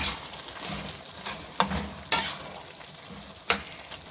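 Ground pork frying in a pan, a steady sizzle with a few sharp scraping clacks as it is stirred, close and alone.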